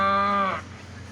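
A human voice imitates a bull or cow lowing with one sustained, strongly voiced moo that fades after about half a second, close and fairly loud.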